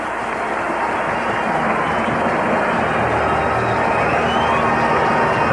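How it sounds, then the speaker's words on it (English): A 1985 NFL game crowd in the Minnesota Vikings' home stadium facing the Philadelphia Eagles, a loud continuous roar of cheering fans, steady and dense throughout with no pause. "And the crowd becomes animated."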